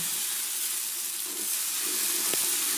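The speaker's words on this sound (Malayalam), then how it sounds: "നോൺ സ്റ്റിക്കിൻ്റെ ചട്ടിയിലാണ് ദോശ ചുടുന്നത് അതും അടുപ്പിൽ വെച്ചിട്ട്" A dosa cooks on a non-stick pan over a home stove, making a steady, close, soft hiss and sizzle that runs through the whole stretch with no break and no talking, plus one faint click near the end.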